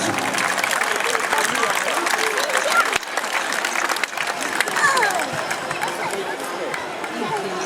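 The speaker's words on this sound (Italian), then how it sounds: "Un applauso ai giovani di Arbus, grazie, a Trusano." Crowd at a grape harvest folk festival in Quartu Sant'Elena claps steadily for a young folk group, mixed with chatter and a voice over the applause, the clapping dipping briefly around the middle.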